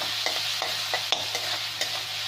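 Onions for chole fry on a high flame with a steady sizzle, punctuated by sharp ladle taps and scrapes against the pan, close by with no talking.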